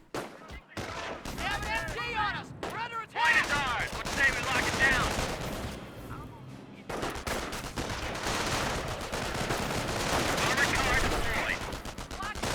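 A Company of Heroes battle fills the scene with continuous rattling machine-gun and rifle fire and scattered explosive thumps, including grenade blasts, dense and busy throughout, with a commentator's voice running over the din.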